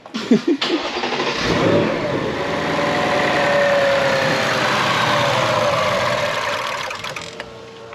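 A 2024 Mustang Dark Horse engine with a Whipple supercharger fires up for the first time, catching with a loud crank and bark, then settling into a steady, rough, loud idle with a faint whine on top, close by.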